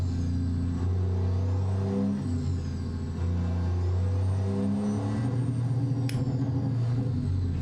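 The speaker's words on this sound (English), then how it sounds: "don't know if you could hear that rev limiter too." A truck in American Truck Simulator revs hard against its rev limiter, giving a loud, steady engine drone with a pulsing, cutting rhythm and no talk.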